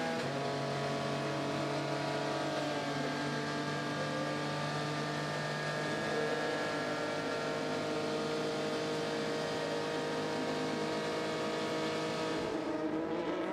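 On board a racing car during Le Mans qualifying, a sustained loud engine drone that holds a steady high note and shifts slightly in pitch, with no talking.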